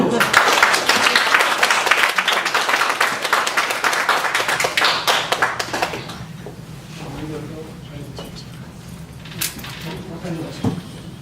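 A congregation claps at a church founding service of a presbytery, loud brisk clapping for about six seconds that fades out, followed by quieter room noise with a few bumps and a voice speaking.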